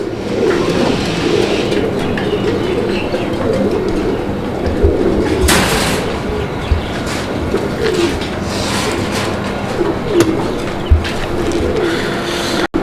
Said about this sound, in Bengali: দর্শক বন্ধুরা কবুতর দেখেন